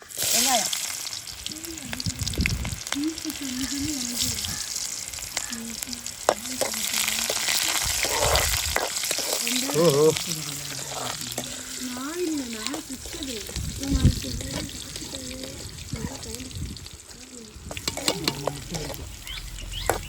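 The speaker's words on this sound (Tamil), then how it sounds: "சட்டி காஞ்சிட்டு கொஞ்சோண்டு என்ன காஞ்சிட்டு வெந்தயம் போட்டுக்கலாம் வெந்தயமா வெங்காயம்" Fenugreek seeds and onion fry in a hot pan for a fish curry, with a loud continuous sizzle and crackle plus stirring scrapes, while a voice talks over it throughout.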